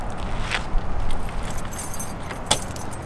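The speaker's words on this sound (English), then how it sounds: "normal keys, and it opens like a normal door." Keys jangle while unlocking the door of a converted bus tiny home, with two sharp metallic bursts a couple of seconds apart over a steady low background rumble.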